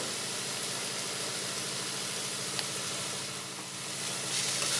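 Spice paste of ground coriander, sugar, Kashmiri red chilli powder and garam masala being fried in a pan for a ghugni recipe, heard as a steady, close hiss and sizzle that swells slightly near the end, with no talking.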